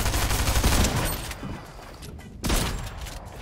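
Shotgun blasts in a video game, heavy booming shots up close, a burst of loud fire at the start and another sharp blast midway amid game noise.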